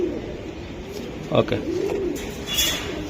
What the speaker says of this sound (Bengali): এই আরেকটা কবুতর নর।